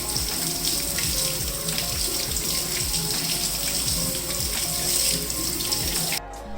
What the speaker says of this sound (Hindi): आलू भी अच्छी तरह धो लेने।